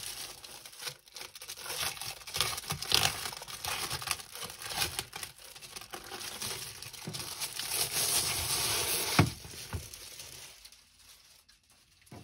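A PoloSmart PGM15 RGB mouse and mouse pad are unboxed, their plastic packaging crinkling and tearing in a continuous close rustle that swells and eases before falling quiet near the end.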